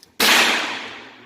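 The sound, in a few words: Ruger LCP2 pistol gunshot at the range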